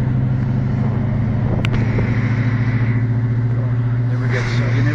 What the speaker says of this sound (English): You never get tired of that 5-liter sound